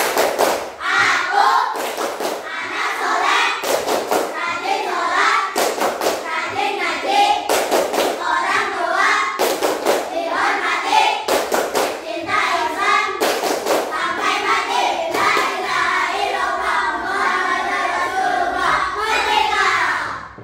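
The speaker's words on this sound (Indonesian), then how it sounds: "Kita tepuk anak soleh." A classroom of Islamic religious-education pupils performs the 'tepuk anak soleh' clapping chant, sharp rhythmic hand claps punctuating loud children's chanting voices throughout, steady and close.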